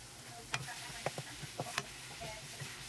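Ground meat frying in a pan for pad kra pao gives a quiet, steady sizzle, broken by several sharp scrapes and clicks of a utensil stirring and breaking it up.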